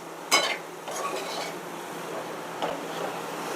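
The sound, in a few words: stirring broccoli with salt and spices in a pan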